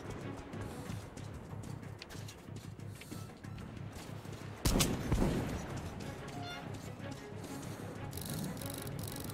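A single sharp gunshot cracks out in Metro 2033 Redux, standing out once midway over a low, murky game ambience with faint scattered noises around it.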